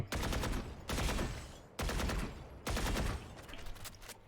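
Gun shooting in the video game Valorant, four loud bursts of rapid automatic fire with brief gaps between them, close and clear with no talk.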